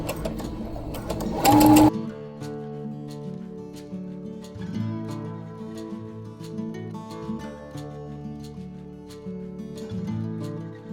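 A sewing machine stitching a pillow cover with a 2.5 millimeter stitch length runs in a steady, close mechanical whir, preceded by a short loud rustle of fabric handling.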